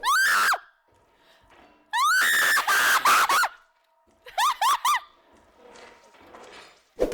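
A player shrieks in fright as a monster strikes in a co-op indie game, with several loud, high-pitched screams in bursts separated by short near-silent gaps, close and piercing.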